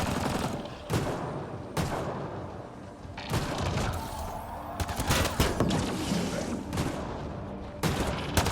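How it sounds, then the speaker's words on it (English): Turret gunfire in the video game Mass Effect Andromeda, heard as loud sustained automatic bursts with heavy booms and thuds that crackle continuously and sit densely over the whole stretch, with no speech. "I want to see my turret in action."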